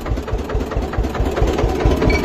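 An Eicher tractor engine idling at a farm site, a loud, close, steady low rumble with a rapid regular chugging pulse throughout and no voices.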